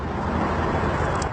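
A grey parrot mimics a car starting, a brief broad rushing engine-like noise, close and steady with no talk.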